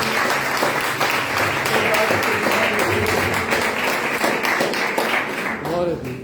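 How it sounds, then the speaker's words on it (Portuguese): A church congregation at a Sunday worship service applauds together, dense steady clapping filling the room loudly from start to finish, with a faint voice or two under it. "Aplauda o Senhor, querido."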